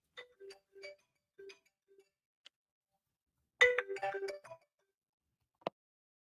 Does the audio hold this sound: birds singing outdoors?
no